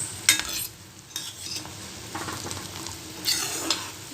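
A spoon stirs a gulab jamun mixture over low sizzling after syrup is added, soft scraping strokes in irregular bursts over a faint steady fry, with a couple of light metallic clinks.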